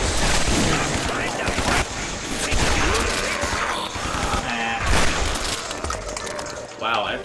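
Video game gunfire while shooting in midair, dense bursts of shots and booms layered with loud effects, with voices talking over the action throughout.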